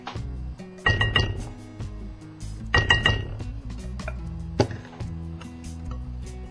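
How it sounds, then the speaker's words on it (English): A utensil clinks and scrapes around a bowl of wet batter in quick bursts of stirring, separated by softer pauses, close and moderately quiet with no talk. "Give it one more really good stir, get everything mixed up and even."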